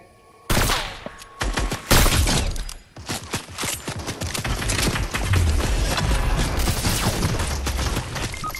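Rapid bursts of gunfire with shattering impacts in the video game Fortnite, loud and dense, starting with sharp single blasts then settling into sustained rattling fire.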